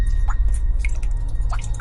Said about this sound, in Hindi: तभी उसके पीछे से पानी टपकने की आवाज आई।